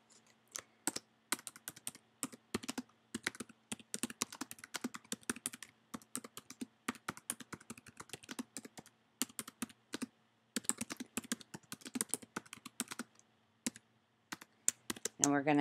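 Rapid typing on a computer keyboard while composing a tweet, bursts of close, crisp key clicks with short pauses between runs and no voices.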